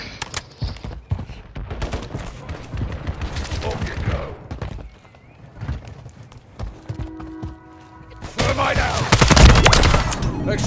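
Gunfire in a Call of Duty Modern Warfare 3 Team Deathmatch comes in dense, loud bursts, with a quieter lull in the middle before heavy firing returns. Spoken game voice lines run in between the shots.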